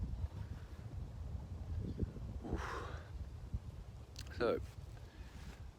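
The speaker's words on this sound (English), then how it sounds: "It's a chilly wind" A chilly wind blows across a hilltop wild camp, a low rumbling buffet against the microphone that gusts and drops, with someone talking over it.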